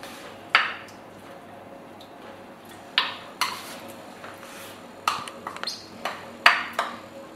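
Tuna being stirred into a Chinese cabbage salad in a bowl, with several sharp clinks of a utensil against the bowl scattered over a quiet background.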